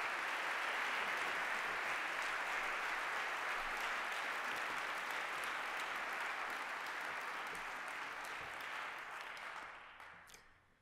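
An audience at a lecture welcomes Herbie Hancock with sustained, dense applause from a large crowd, steady for about nine seconds before tapering off to a few scattered claps.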